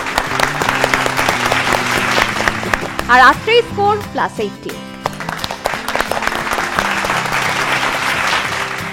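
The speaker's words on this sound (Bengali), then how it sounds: "বিশাখ জ্যোতির জন্য জোরে হাততালি।" Audience applause at a family game show, a dense burst of clapping that fills the whole stretch, with a host's voice speaking over it midway.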